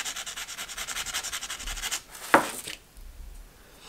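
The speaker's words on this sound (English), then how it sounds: "I'm going to use some sandpaper to just round off that part" Sandpaper rounds off the flared end of a small wooden part for a model flyer. Quick rhythmic back-and-forth strokes are followed by a sharp scrape, then the sound fades, close up with no talking.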